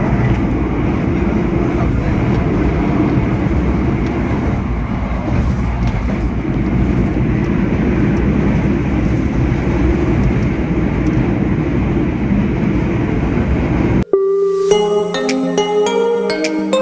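A steady, loud rumble rolls on inside a carriage of the Argo Bromo Anggrek luxury train, then cuts off abruptly near the end and gives way to a brief tonal passage.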